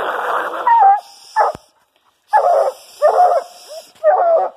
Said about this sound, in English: Get some tree dog action here.